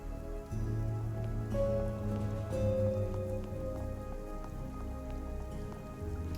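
Steady rain falls in a Victorian steampunk RPG, a soft continuous patter under low ambient game music with faint tonal hums, no voices.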